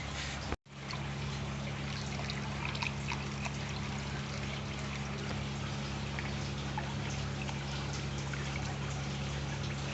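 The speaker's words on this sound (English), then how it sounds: "we can add our water to the tub" Water poured steadily into a reptile tub, a continuous close trickling and splashing stream that runs unbroken after a brief gap at the start, with a low steady hum underneath.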